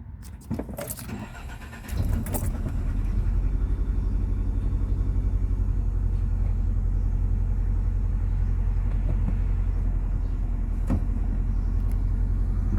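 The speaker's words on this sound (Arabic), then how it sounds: "نسيب الدعسة ونشغل السيارة." A Nissan Altima with a rough idle cranks briefly and catches after a throttle body relearn, a few clicks and key rattles giving way to a steady, loud, close engine idle.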